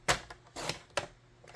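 Paper being cut for a craft project, with a few sharp, separate snips and clicks, close and fairly quiet, spaced irregularly with short pauses between them.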